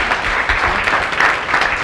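An audience at a science lecture applauds to welcome the woman lecturer, a short burst of steady, fairly close clapping with no talk over it.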